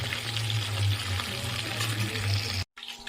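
Chicken pakoras for restaurant-style chili chicken frying in hot oil, a steady crackling sizzle with bubbling, close, continuous, with a brief drop-out near the end.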